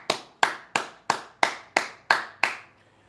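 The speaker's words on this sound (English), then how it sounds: "Y'all give a round of applause to Brother Jay." A single person claps eight evenly spaced times for Brother Jay, each clap sharp and close, with a short ring after it and no voices.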